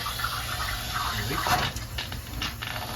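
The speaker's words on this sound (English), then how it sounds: "just putting fresh water in here initially to check for everything in case we do have some leaks" Fresh water pours steadily into the radiator of a 1940 Mercedes 320, a continuous close hiss and gurgle with slight surges in the middle and no talk over it.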